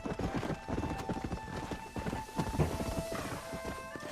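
Horse hooves clip-clop in steady rhythm across a dusty frontier town in the Red Dead Redemption video game, close and busy under a layer of game music and ambient noise, with a brief whinny near the end.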